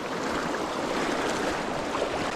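Fast, shallow stream water rushes steadily over rocks in pocket water, a continuous broadband wash heard close and alone with no talking.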